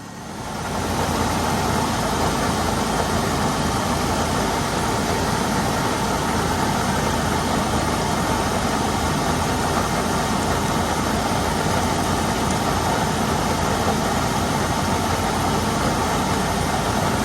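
A cold engine in a 3rd generation Toyota 4Runner runs at a steady, loud drone throughout, heard close with no talk, and no clear rise and fall of revs.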